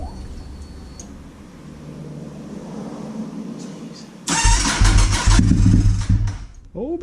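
A Honda RC51 motorcycle engine cranks and then fires, bursting into a loud, throbbing run after a few quiet seconds, revving unevenly up close.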